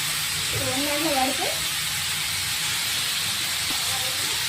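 Onions in a hot pan give off a steady, even hiss of steam, close and constant, with a voice speaking briefly over it.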